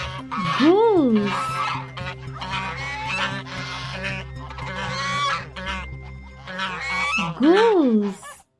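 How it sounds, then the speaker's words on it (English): A goose honks in a string of loud, nasal calls, with rising honks at the start and end, over a steady musical background. "Goose."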